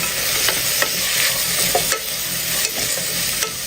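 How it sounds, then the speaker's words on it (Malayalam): Sliced onions and shallots with a little salt sizzle in a hot pan while a spoon stirs them, giving a steady frying hiss broken by regular scraping clicks, close and clear with no voices. "സവാളയും ഉള്ളിയൊക്കെ വഴന്ന് ഒരു ഗോൾഡൻ നിറമാവണം, അതുവരെയും ഒന്ന് ഇളക്കി കൊടുക്കാം"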